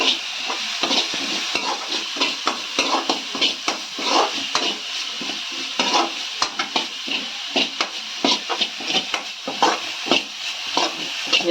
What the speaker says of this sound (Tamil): அந்த காய் ஒரு 2 நிமிஷம் 3 நிமிஷம் நல்லா வதக்கிடலாம்